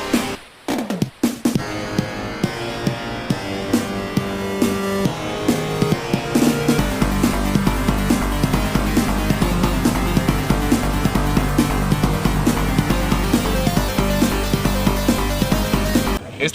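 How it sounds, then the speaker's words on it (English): Merry-go-round style carnival music from a Boo level in a Super Mario video game, a steady looping tune with rhythmic accents, loud and continuous throughout with no talk. "It's the sound of a goddamn merry-go-round"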